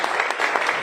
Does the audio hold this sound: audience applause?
yes